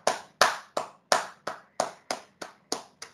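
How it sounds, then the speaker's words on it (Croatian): Hands clapping in a steady, even rhythm, about nine sharp claps close to the listener, with no voices between them. "Gdje je aplauz?"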